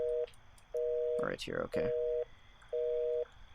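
A telephone line sounds a repeating tone in evenly spaced beeps during an unanswered call. A voice speaks briefly between the tones.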